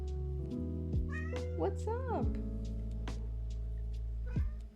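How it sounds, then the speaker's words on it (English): A cat meows several times up close, short rising and falling cries, while a person talks over a low steady hum. "Kitty's down here at my feet. She's talking to you too"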